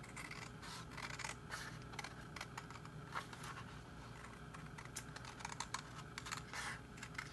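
Scissors snip through cardboard to cut out a pom pom template, giving a quiet, close series of irregular crisp cuts and crunches with no talking.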